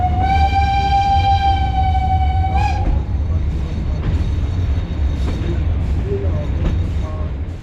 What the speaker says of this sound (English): now we can listen to the beautiful sound of our locomotives once again.